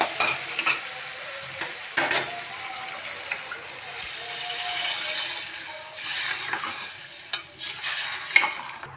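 Water hits a hot, spiced tadka for Gujarati vagharwali khichdi, sparking a loud sizzle and bubbling that settles into steady frying, with a spoon stirring and clinking against the pot.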